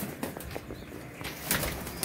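Pigeons crated for cargo shipment, including Teddy and Golden varieties, flap and scuffle in bursts of rustling wingbeats close by, with a louder flurry near the end.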